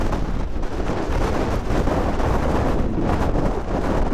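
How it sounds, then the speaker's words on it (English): Strong wind roars steadily across an exposed mountainside at Donner Summit near Tahoe, California, as a winter storm rolls in, a loud, continuous buffeting rush with gusty surges battering the microphone, with no voices. "the wind is just starting to really rip through"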